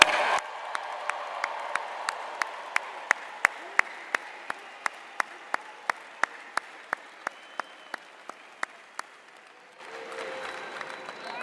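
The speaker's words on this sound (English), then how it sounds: "now let's all give the class of 2024 a round of applause" A large audience at a spring 2024 business college commencement applauds the graduating class, a sustained roar of clapping with steady sharp hand claps standing out, then the crowd noise drops off near the end.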